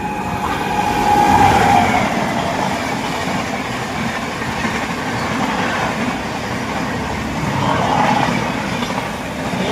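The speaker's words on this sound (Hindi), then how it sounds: "ये सामने आ रही है पूर्वा एक्सप्रेस वेब 7 के साथ।" A Purva Express hauled by a WAP-7 electric locomotive passes on Indian rails, a steady loud rumble and clatter of wheels with faint squeals rising now and then.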